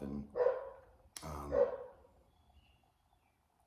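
A dog barks twice, somewhat distant and muffled, as if from outdoors, followed by quiet.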